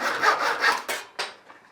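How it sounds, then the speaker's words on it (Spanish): Sandpaper rubbed on the corners of a wooden board, several rhythmic back-and-forth scraping strokes followed by two shorter, sharper rubs, close and clear. "matábamos un poquitín con lija las esquinas para no hacernos mal después"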